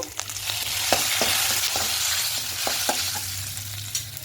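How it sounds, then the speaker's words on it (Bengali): Whole cinnamon, cardamom, cloves, cumin seeds and bay leaves frying in hot oil, giving a steady close sizzle with scattered sharp crackles and pops, with no talk. "এবার এই তেলের মধ্যে গোটা গরম মশলা ফোড়ে ফোড়ন দেবো দারুচিনি এলাচ লবঙ্গ গোটা জিরে আর দুটো তেজপাতা দেব"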